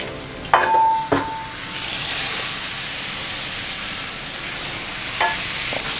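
Butter sizzles in a hot pan with a steady bright hiss, broken by a few sharp clicks and scrapes of a utensil near the start and end.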